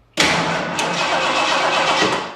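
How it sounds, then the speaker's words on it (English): A Ford F250 pickup, stored for 20 years in a shipping container, cranks over: a sudden loud start into a steady, close engine churn that runs unbroken for about two seconds before easing off. "All right. Cranks over."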